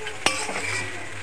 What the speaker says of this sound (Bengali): নেড়ে চেড়ে ফের একটুখানি মিশিয়ে নেবো সব একসাথে করে